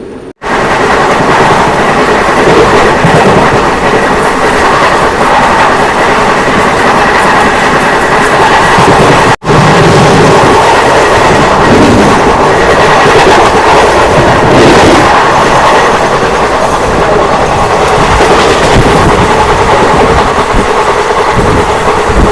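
The Thiruvananthapuram Central Express rolls along the rails past Koyilandy in Kerala, a loud, steady rumbling roar with rattling carriages that holds unbroken almost the whole way, heard from on board.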